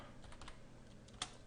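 Keystrokes on a computer keyboard while entering a command at a Windows prompt, a quiet run of soft clicks with one sharper tap near the end, no talking.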